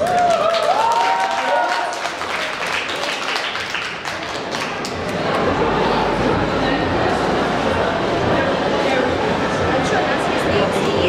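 An audience at the closing of a festival event claps loudly and continuously, the sound swelling after a brief stretch of speech at the start and staying dense to the end.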